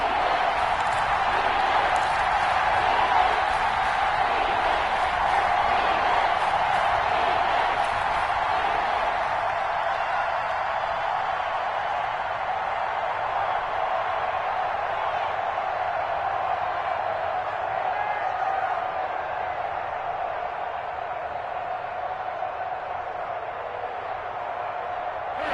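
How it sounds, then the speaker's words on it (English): Steady roar of a video game football stadium crowd during a Buccaneers game ahead of a big third down, a broad continuous wash of cheering that stays loud and even throughout, easing slightly toward the end. "the crowd getting into it as we come up on a big 3rd down"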